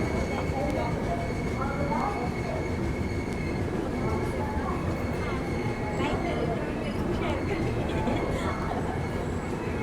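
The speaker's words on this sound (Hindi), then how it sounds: "सामने ट्रेन है WP7 के साथ" At Manmad Junction, a train hauled by a WP7 locomotive rumbles with a continuous loud rolling roar and faint wheel squeal, while voices chatter throughout.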